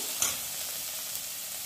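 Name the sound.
vegetable mixture roasting in a pan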